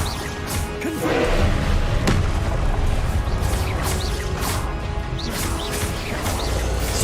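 A Confringo fire spell bursts in Hogwarts Legacy during a boss fight, a loud crashing blast followed by rumbling thuds and whooshing game effects under continuous background din.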